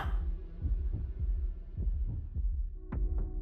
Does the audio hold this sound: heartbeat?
yes